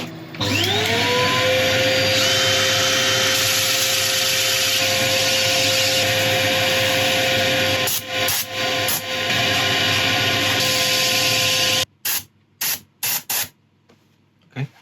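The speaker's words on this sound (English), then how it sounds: "Right, I'm going to start sanding." A grass tree root spins on a wood lathe during sanding, a loud steady motor whine and broad rushing hiss that rises to speed and runs on, then cuts out into a few short bursts of sound before quiet.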